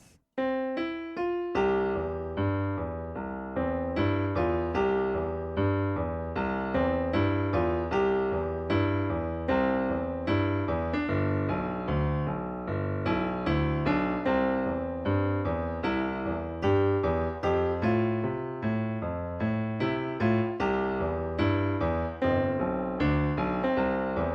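Piano playing the "When the Saints Go Marching In" melody over a rolling low bass accompaniment, steady and continuous with no voices.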